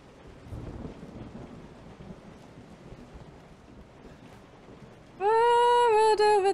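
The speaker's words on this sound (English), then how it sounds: "It's a rainy night." Rain and thunder on a rainy night in Resident Evil 7: a steady wash of heavy rainfall with low rumbling underneath. A loud, sustained tonal sound cuts in over it near the end.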